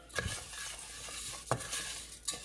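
Jasmine rice coated with oil and black pepper is stirred in a pan, giving a soft continuous scraping with a light sizzle and a few louder spoon knocks, close and without talk.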